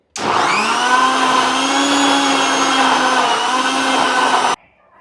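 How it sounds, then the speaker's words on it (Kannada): A mixer grinder whirs steadily as it blends cut fruit into juice, a loud continuous motor whine running for about four seconds before it cuts off abruptly into near silence. "ಇವಾಗ ರುಬ್ಕೋತಾ ಇದ್ದೀನಿ ಜ್ಯೂಸ್ ಮಾಡ್ತಾ ಇದ್ದೀನಿ"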